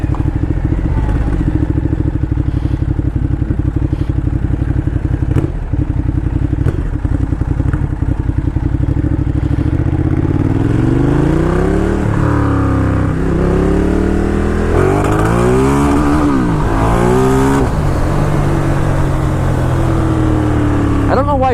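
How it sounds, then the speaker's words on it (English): Ducati Diavel cruiser motorcycle on a test ride, its engine droning steadily and loud, then rising and falling through several revving accelerations and gear changes, with wind noise throughout. "This is a fun bike. Ducati, you've done it."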